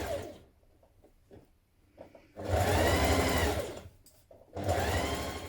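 Home sewing machine stitches pieces of a McCall's 7518 onesie: two sustained, loud runs of rapid whirring needle motion separated by quieter handling and short starts, close by with no talking.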